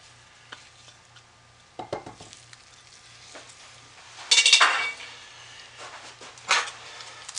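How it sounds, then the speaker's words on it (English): A whisk stirs colorant into thick soap batter, giving soft scraping swirls with clinking bursts against the container near the start, a louder, busier stretch in the middle, and another sharp clink toward the end. "I'll whisk it in a little bit first, because I don't want it super thick."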